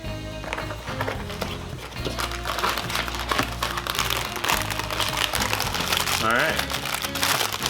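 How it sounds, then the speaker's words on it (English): Plastic packaging of frozen Angus burgers being opened, continuous crinkling and crackling close by, with a person talking throughout. "I'm just going to open this up and see how the packaging comes."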